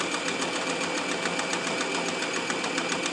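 Sewing machine stitching fabric face masks, a steady fast mechanical whir with rapid even ticking that runs loud and close without pause.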